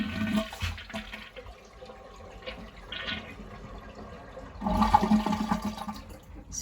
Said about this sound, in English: and then flush